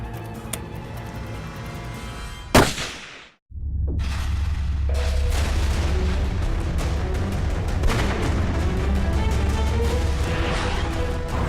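A single loud rifle shot fired at a whitetail buck about 150 yards away during a Wyoming hunt, a sharp blast followed by a brief drop and then a sustained rumbling echo and outdoor noise.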